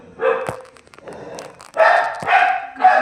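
A puppy gives a few short, high yapping barks in quick clusters, close and fairly loud, with some quieter shuffling between them.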